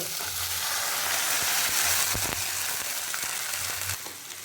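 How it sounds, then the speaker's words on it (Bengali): Tomatoes being sautéed in a pan for dal makhani, a loud, close, continuous sizzle with scraping stirs and a few sharp spatula knocks against the pan, no speech. "এখন টমেটোটাকে খুব ভালো মতন কষিয়ে নেব।"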